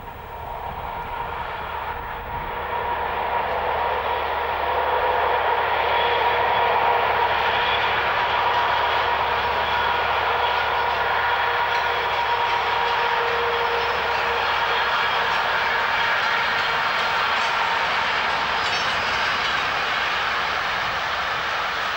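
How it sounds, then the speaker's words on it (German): A Deutsche Reichsbahn diesel-electric locomotive of the Taigatrommel type runs with a loud, steady, droning engine roar that builds over the first few seconds and then holds constant with no talk. "die erste dieselelektrische Lokomotive der Reichsbahn"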